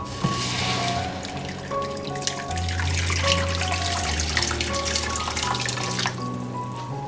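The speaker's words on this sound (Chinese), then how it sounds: "锅内加水。" Water pouring into a cooking pot before orange peel is boiled for candied peel, a steady close splashing stream that runs continuously with a faint ringing from the pot.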